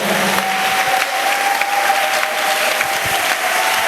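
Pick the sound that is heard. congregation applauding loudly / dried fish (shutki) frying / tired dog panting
congregation applauding loudly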